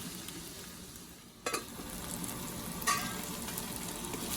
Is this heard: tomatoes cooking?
yes